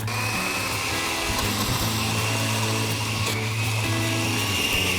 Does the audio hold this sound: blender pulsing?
yes